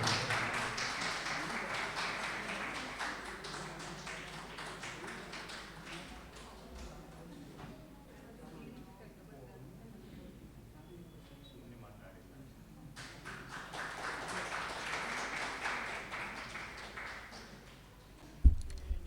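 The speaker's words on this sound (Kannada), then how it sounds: "ಈಗ ದೊಡ್ಡ ಚಪ್ಪಾಳೆ ಇರಲಿ." Audience applause for Bhavani Lokesh at a public event, a sustained crowd clapping that fades to a quieter stretch and then swells again before ending.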